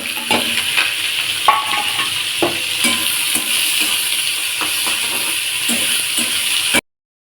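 Onion frying in a pan, a loud continuous sizzle close by, broken by repeated scrapes and taps of stirring, cutting off abruptly at the end.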